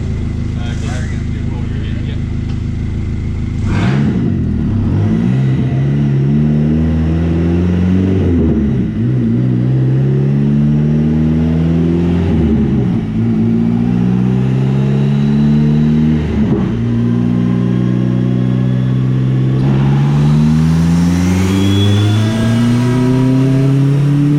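Turbocharged car engine revved repeatedly into its fuel cut, each loud rising rev bouncing off the limiter in a stuttering pattern, about five pulls in a row, with people talking between them.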